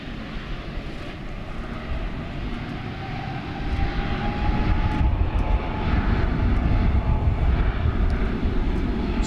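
A Fiji Airways airliner arrives at DFW airport, its broad jet engine roar steady at first and then swelling louder from about four seconds on, with a faint tonal whine riding over the rumble and no talk.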